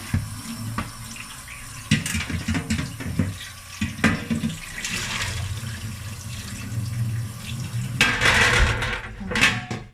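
A sea bass is rinsed under a running kitchen tap, water splashing steadily over the fish into the sink with clattering handling sounds, close and without talk.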